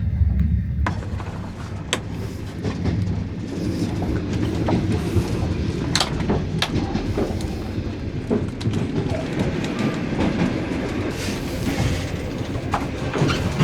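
An old night train from Chisinau to Bucharest rolls along the rails, heard from inside a carriage as a steady rumble with clanks and metallic clicks, no voices.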